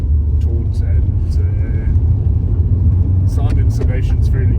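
A 1994 Mercedes W202 C180 with a manual gearbox pulls away into traffic, its steady low engine and road rumble running throughout beneath a voice.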